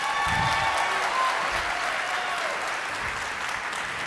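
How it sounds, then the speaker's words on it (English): Audience at a township choir concert in a sports complex applauding the singers, a dense, steady wash of clapping from a large crowd that continues without a break, fading slightly near the end. "Can we give them one more round of applause?"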